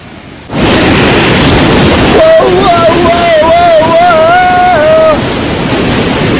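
A steady, loud, broadband roar of water at Durbin Tilla Punji waterfall on Lumding Road in Assam fills the scene from the first half-second on, with a wavering voice-like tone rising over it midway.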